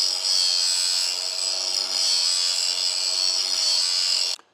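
A lawn mower blade being sharpened on a power grinder, a loud, steady high-pitched grinding whine held for about four seconds before it cuts off abruptly, no talking.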